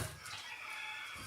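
A brief, faint rooster crow from an alarm clock, heard at a distance, a single drawn-out call.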